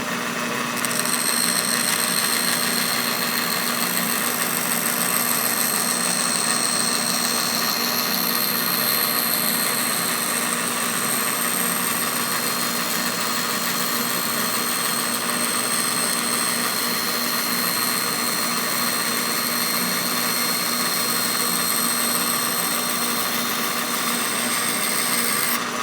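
A band saw runs at full speed in a workshop, giving a loud, steady mechanical whine and hum that holds unchanged for the whole stretch, with no talking.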